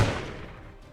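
A single gunshot from the Warhammer Quest video game, a quick muffled boom with a decaying tail, fairly loud and alone.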